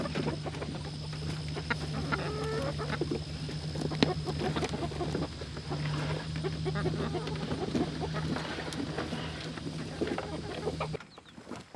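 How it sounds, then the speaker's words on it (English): Chickens let out of crates cluck and chatter continuously at close range, with a steady low hum running underneath before cutting off at the end. "Onward, chickens."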